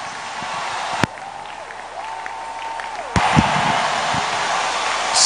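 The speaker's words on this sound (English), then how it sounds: "Go ahead, clap for Jesus." A congregation claps at a Winners Chapel Holy Ghost service welcoming Bishop David Oyedepo, a dense, steady wash of applause filling the hall, with a couple of sharp knocks.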